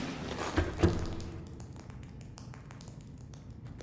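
Water drips and patters onto the floor on entering the escape pod in Subnautica, a few close taps standing out early before settling into faint, scattered drops over a low hum.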